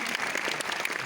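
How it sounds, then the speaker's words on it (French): Audience applause at a cinema premiere screening of a film in Coquelles, steady dense clapping from a crowd filling the room for about a second. "On va applaudir Corentin."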